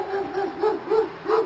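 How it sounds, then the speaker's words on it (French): Dogs in a village yard bark and yelp in quick repeated bursts, four or five short calls in a rhythmic series at moderate distance. "mais il y avait des chiens."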